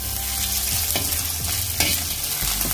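Grated ginger fries and sizzles in a pan for rajma, with a spoon stirring and scraping through it a few times; a steady close crackle runs throughout.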